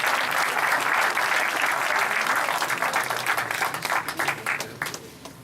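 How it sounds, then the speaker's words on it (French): Audience applause at a town New Year's greetings ceremony in Rivière, dense and loud for several seconds before thinning and fading near the end. "Alors nous pouvons les applaudir"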